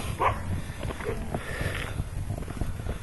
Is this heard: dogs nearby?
yes